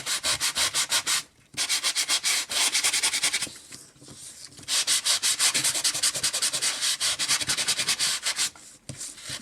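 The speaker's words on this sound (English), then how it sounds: "You can go ahead and really get in there and then just sand as much as you like." Sanding an embossed white-core card, a close, steady run of rapid rhythmic rubbing strokes with a few short pauses between bursts, with no talking.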